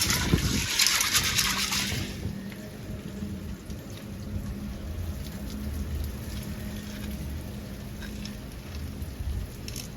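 Dried, unsoaked peas being washed in water for Jamaican stewed peas, with a burst of splashing and rinsing up close followed by a steady running-water trickle.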